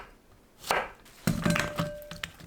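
A knife slices through zucchini whose ends have been trimmed, cutting rounds about half a centimetre thick on a board: a handful of crisp, close chops spaced irregularly, with a faint tone lingering between cuts.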